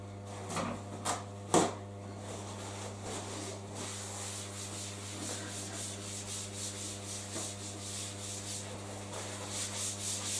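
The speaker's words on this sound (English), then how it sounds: "You do need to dry the surface." A cloth wipes a kitchen work surface dry, with soft rubbing strokes and a few louder knocks near the start over a steady low hum, close by.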